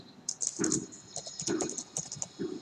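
A quick burst of typing on a computer keyboard as a line of PHP code is entered, close, clicky keystrokes in short clustered runs with no talk.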